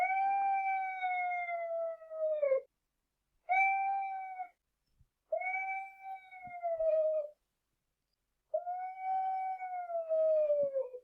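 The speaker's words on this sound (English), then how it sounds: "she's doing these long sequences of closed mouth howling" A cat called Donna gives four long, drawn-out closed-mouth howls, each wavering and then dropping in pitch at its end, separated by short silences and heard up close in a quiet room.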